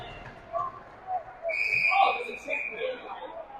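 Sharp referee's whistle blast at a college ice hockey game, Royals vs. Kutztown, sounding once mid-clip over arena crowd murmur and rink noise.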